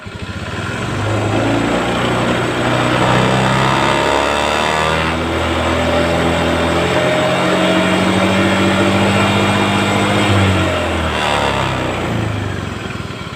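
A motorcycle engine runs steadily at about 6000 RPM during a charging system test, a loud, continuous close-up drone with a slight pitch wobble and no talk over it.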